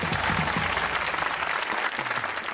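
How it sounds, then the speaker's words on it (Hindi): Dense studio audience applause on a Hindi-language comedy talk show, steady and loud throughout with a few sharper claps near the end. "अपने लिए तालियां हो जाए।"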